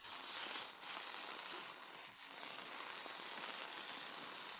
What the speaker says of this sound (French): Je vais d'abord griller cette partie coupée de la couronne